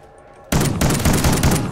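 Gunfire in the Call of Duty Ghosts video game bursts in suddenly after a quiet moment, a loud sustained fusillade of rapid automatic shots that continues densely to the end.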